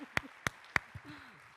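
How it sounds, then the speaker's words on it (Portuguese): Three sharp, separate hand claps ring out from a church congregation at a Brazilian Pentecostal service, fading into quieter room noise and a brief murmur. "Vamos aplaudir,"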